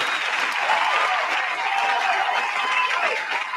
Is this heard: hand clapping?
yes